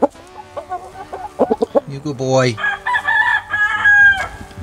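A heavy Shamo rooster named Poe clucks and then lets out a full, drawn-out crow close by, with someone speaking softly to the bird in between.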